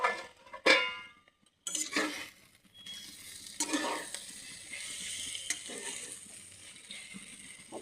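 Taro stolons (kochu loti) fry in a pan until dry and reddish-brown, a soft continuous sizzle with occasional clinks and scrapes of a utensil against the pan, fairly quiet and close, without talking.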